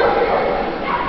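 A Groenendael Belgian shepherd dog at an outdoor dog event near Nantes gives short yipping barks and whimpers close by, while someone talks in French over the sounds.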